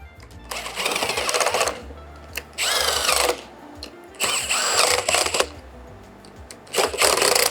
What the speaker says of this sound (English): I'm just going to run these up with my impact for speed